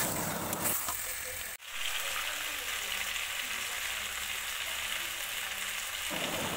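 Chicken with spices sautéing and being cooked down in a pan, a steady broadband sizzle running throughout with a brief dip partway through, close and fairly loud with no talking.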